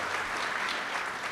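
Short burst of applause from an audience, a steady wash of clapping hands at moderate volume with no speech over it.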